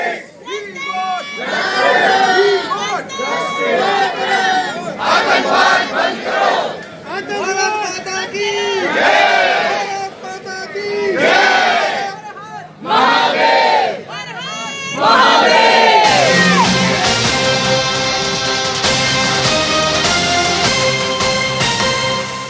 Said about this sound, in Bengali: তাদের বিরুদ্ধে দেখুন স্লোগান উঠছে